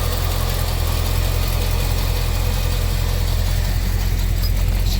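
A Cadillac engine idles steadily and close by, with a strong low rumble and even vibration throughout; it has a new brake booster and master cylinder, and no one speaks.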